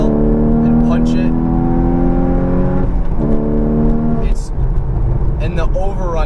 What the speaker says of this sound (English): The transmission in this car is fantastic. Short throws, when you blip the throttle and punch it,